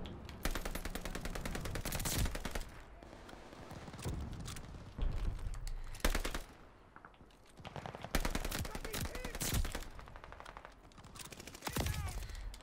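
Rapid bursts of automatic gunfire in Call of Duty: Vanguard multiplayer, repeated volleys with short pauses between, fairly loud and close throughout.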